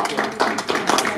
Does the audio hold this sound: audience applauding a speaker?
yes